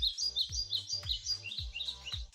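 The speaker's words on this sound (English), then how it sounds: "Bird chirping likely sounds pleasant to most people due to evolution." Birds chirp in quick, bright, repeated tweets, with a steady rhythmic pattern of short calls over low soft thumps, at moderate distance and fairly faint, with no voices.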